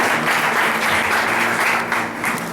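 Sustained applause from a church congregation, steady and loud throughout, fading slightly at the very end.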